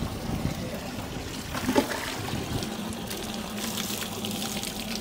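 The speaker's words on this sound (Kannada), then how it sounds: "ನನ್ನ ಕೈ ನೀರು ಹಾಕಂಗೆ" Water poured over someone's hands splashes and trickles steadily at close range, with a brief louder splash near the start and no talking.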